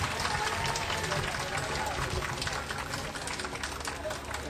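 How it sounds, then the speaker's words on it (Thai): An audience at a Thai gathering claps loudly and steadily, a dense unbroken patter of many hands heard close, fading slightly toward the end. "ปรบมือดังๆสักครั้งหนึ่งนะคะ"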